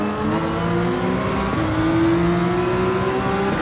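A Lamborghini race car in the Gran Turismo 7 racing game revs hard, its engine note climbing steadily in a loud, continuous whine with no voices over it.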